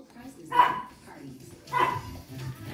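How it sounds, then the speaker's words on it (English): A pet dog barks twice indoors, moderately loud with a pause between the barks, while a person talks during a game session. "My doggy is barking on time."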